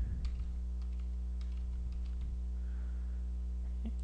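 Keys tapped on a computer keyboard while a test card number is entered into a checkout form, a short run of light, close clicks over a steady low electrical hum.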